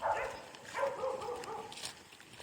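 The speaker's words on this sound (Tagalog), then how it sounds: "May aso." A tied-up dog outdoors gives a few short yelping, whining calls at moderate distance, with a faint rustle of movement around it.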